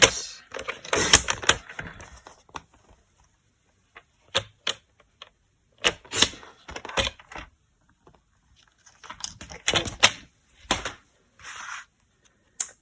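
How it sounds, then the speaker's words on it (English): Paper trimmer cutting cardstock, a series of short, sharp scraping and clicking bursts in irregular clusters separated by silences, heard up close. "So, I'm just going to trim this down a little bit. So, taking back in my trimmer."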